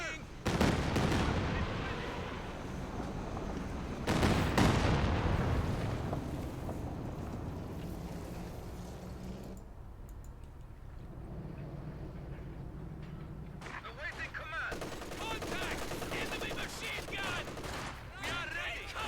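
Rapid gunfire bursts and heavy artillery impacts in Company of Heroes 2 on a battlefield with Soviet conscripts under fire and a Katyusha rocket barrage, loud and dense at first, then a sustained rumble of battle continuing at lower intensity.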